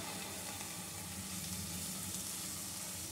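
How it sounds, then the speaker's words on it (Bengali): Spice paste with chilli and grated coconut fries in a pan, producing a continuous, even, broad sizzle that stays close and unbroken throughout. "নারকেল কোড়া দিয়ে মশলাটা আমি ভালো করে একটু কষিয়ে নেব"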